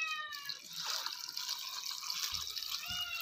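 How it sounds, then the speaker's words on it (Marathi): Water pours into a cooking pot, a soft continuous splashing trickle with faint clinks near the end, fairly quiet and close. "आपल्याला एवढं पाणी घातले"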